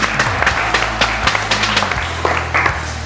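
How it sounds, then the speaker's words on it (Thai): An audience claps for each team after a game-show score announcement, a dense close burst of applause with scattered individual claps, briefly overlapped by a voice. "ขอเสียงปรบมือให้แต่ละทีมด้วยฮะ"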